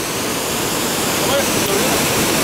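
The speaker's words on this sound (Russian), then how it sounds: "Это водопад у нас в Манавгате." The Manavgat waterfall in Turkey pours in a constant loud rush, close and full, a dense unbroken roar of falling water for the whole stretch.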